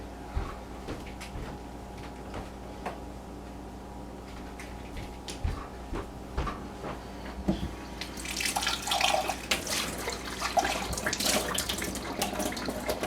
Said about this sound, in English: I'm put it more than halfway full of water